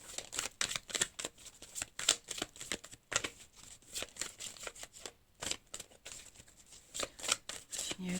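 Tarot cards are shuffled and drawn in quick, close, papery riffles and slaps. The bursts repeat steadily with brief pauses between them, and a voice is faintly present.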